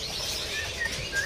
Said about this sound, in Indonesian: Di sini ada burung murai Batu Palangka ya.